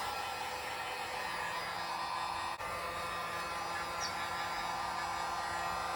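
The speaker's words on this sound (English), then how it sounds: "I'm gonna lightly use the heat gun to dry in between layers" A steady, close blowing hiss of a heat gun on low setting drying paint on brake calipers runs throughout, constant and unbroken.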